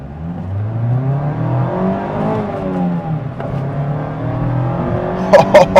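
A 2025 Mazda MX-5 Miata Grand Touring sports car engine revs up and accelerates off the line with rising pitch, heard from inside or close by, followed by a few sharp clicks at the end.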